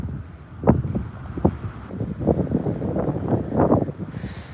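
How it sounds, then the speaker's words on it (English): Gusty wind buffets the microphone during a fishing outing, rising and falling in broad rumbling surges with a few sharper bursts. "People don't want to hear the wind."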